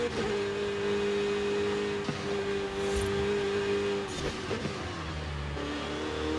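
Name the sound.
Porsche race car engine revving in Forza Horizon 5 video game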